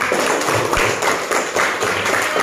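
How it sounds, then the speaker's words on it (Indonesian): Applause fills a classroom after a group presentation, a dense, steady patter of many hands clapping at close range with no talk over it, lasting a couple of seconds. "Tepuk tangan."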